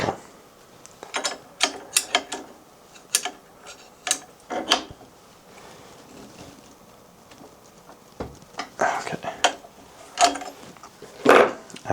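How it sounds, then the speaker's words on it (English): A suppressor is threaded onto the muzzle of an HK MR556 rifle, giving a scattered series of close metallic clicks, scrapes and ratcheting ticks in uneven bursts with pauses between, over quiet room background. "Just take the muzzle device, the suppressor, and thread that on."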